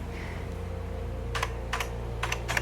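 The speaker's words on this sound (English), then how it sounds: "And their keyboard. Let's see how it sounds." Keys on an old computer keyboard clack in four short bursts of rapid clicking, close and fairly crisp, separated by brief pauses over a low steady hum in an abandoned cottage.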